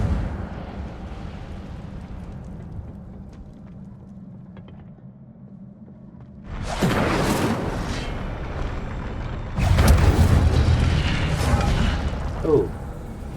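Incendio fire spell cast in Hogwarts Legacy, erupting as two loud whooshing bursts of flame over a low game backdrop, followed by a short sharp crackle.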